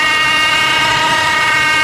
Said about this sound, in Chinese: 电子节温器异响